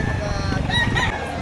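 Roosters at an outdoor Saturday chicken market in Lipa, Batangas, with a brief crow or cluck rising over a busy background while people talk nearby.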